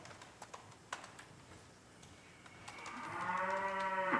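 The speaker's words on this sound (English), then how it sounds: "A video of a cow mooing and then breaking wind." A few soft clicks and taps precede a cow's low moo that rises near the end, fairly close and moderately loud.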